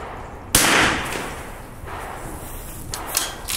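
A single sharp .22 rifle shot cracks loudly near the start, then fades into outdoor ambience, with a few faint clicks and thumps toward the end.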